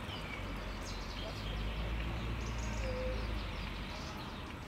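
Faint outdoor birdsong: scattered chirps and calls drift over a steady wash of background noise, with no voices.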